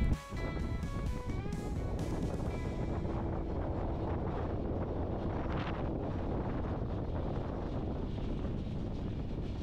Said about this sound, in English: with the wind gusting constantly that almost blew me head off